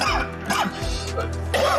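A person coughs several times in quick, rough bursts, close and fairly loud, with a throaty, hacking quality.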